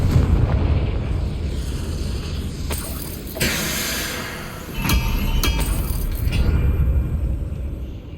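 A Confringo fire spell blasting in the Hogwarts Legacy video game: loud booming explosive bursts with sharp cracks and rumbling debris over a continuous game soundscape.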